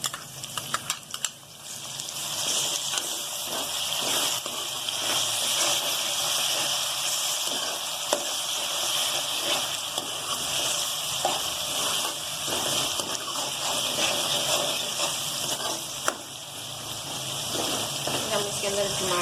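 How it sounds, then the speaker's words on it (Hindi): Ginger-garlic paste hits browned onions in a pan for egg dal ghotala, giving a steady, fairly loud sizzling hiss that holds unbroken throughout. "अब हम इसके अंदर अदरक लहसुन का पेस्ट डालेंगे।"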